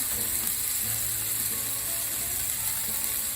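Pork searing in a hot pan for carnitas, giving a steady sizzle with faint crackles throughout, close and unbroken, with no talking.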